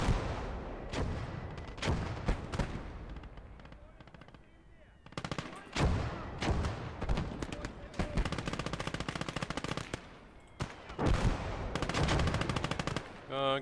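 Machine guns rattle in the WWII strategy game Call to Arms: Gates of Hell, several loud bursts of rapid fire separated by short pauses, with booming shots mixed in.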